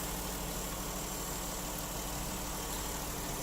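The 3.6-litre engine of a 2015 Dodge Journey runs smoothly at idle, a dense, steady, close-up hum with no change in level for the whole stretch.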